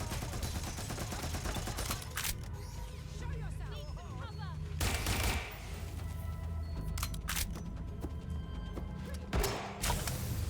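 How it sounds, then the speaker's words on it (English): Turret gunfire in the Watch Dogs Legion video game: repeated sharp bursts of shots over a constant low hum, spaced irregularly across the stretch and fairly quiet overall. "Oh, that's a turret."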